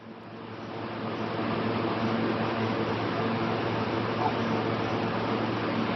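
A Havells air cooler runs with a steady broadband fan whoosh and a low motor hum. It swells over the first second, then holds constant and fairly loud with no talk.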